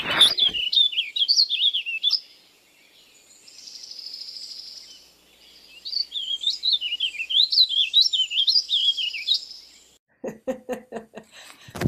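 A vireo sings loud, clear whistled phrases in rapid rising and falling runs, broken by a brief pause, with a quieter steady high tone between runs and a burst of short chips at the end, no voices.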